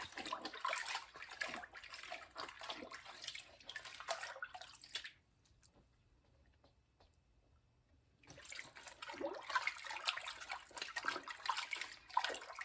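Collard greens are washed under running water at a kitchen sink, a steady hiss of splashing tap water over rustling leaves that stops for a few seconds and then starts again, near and fairly clear.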